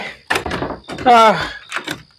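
A door in a toilet stall is pushed shut with a close thunk amid excited, overlapping voices and a loud shout.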